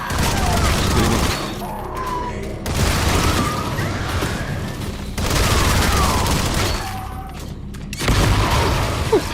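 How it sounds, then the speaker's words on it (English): A grenade launcher firing in a video game, heavy repeated blasts in several waves with booms and debris, loud and close, with a voice reacting over the noise. "grenade launcher works pretty nicely"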